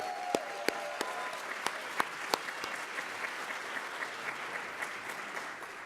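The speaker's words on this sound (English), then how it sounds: "One more round of applause for Anne Marie Gable." An audience at a college staff awards ceremony applauds an honoree with a quiet, sustained round of clapping, a few sharp individual claps standing out near the start.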